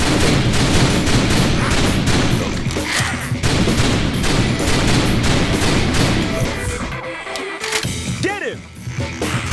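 Dense, rapid gunfire from the light-gun zombie shooter House of the Dead Overkill on PS3, a continuous barrage of loud shots with game voices over it, thinning out near the end.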